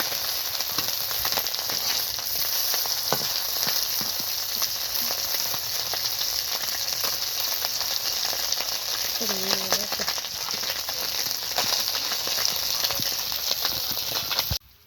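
Kakchi fish frying in a pan, a loud, dense and continuous hissing sizzle that holds steady for the whole stretch before dropping away at the very end.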